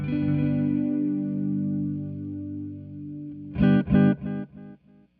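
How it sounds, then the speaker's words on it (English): Delayed notes from the Time Dilation V5 plugin drift in pitch: a long held tone, then a quick cluster of repeats that shrink and fade one after another into silence, with no voices. "There you can really hear the delays starting to kind of tail off"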